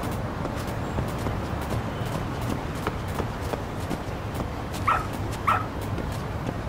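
A dog in Lost Judgment gives two short yips or barks near the end, above a busy background of footsteps and ambient noise.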